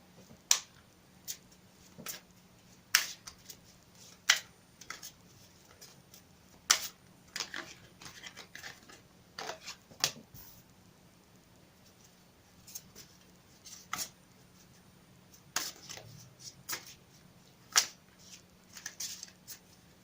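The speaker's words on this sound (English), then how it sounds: "I will shuffle it again for you on camera" Irregular crisp snaps and flutters of a deck of cards being shuffled and riffled for a card reading, close up, with short pauses between bursts and no talking.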